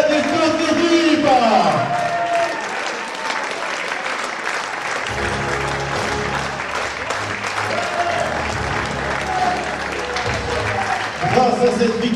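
A crowd applauding a table tennis match victory in a hall: sustained clapping with some cheering, while a commentator talks over it.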